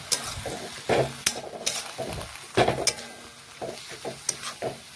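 Punka greens are stirred together with eggplant and potato in a sizzling pan, with irregular scraping and clattering spatula strokes over a steady close fry.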